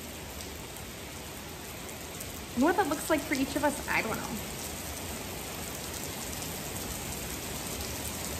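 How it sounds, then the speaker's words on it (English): Rain falls in a steady, soft hiss throughout, with a voice speaking briefly over it partway through. "as we sit here and we watch the rain fall down"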